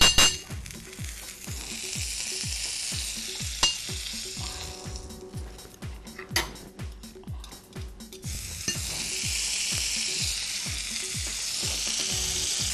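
Butter sizzles loudly on a hot sizzler plate set on a wooden tray for sizzling chicken, with rhythmic spoon scrapes and a few metallic clinks as it spreads.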